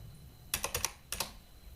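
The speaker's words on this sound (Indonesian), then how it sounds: "Kemudian di sini kita ketik ping" Keys click on a computer keyboard as a ping command is typed: a quick run of four crisp taps, a short pause, then two more, close and fairly quiet over faint room hum.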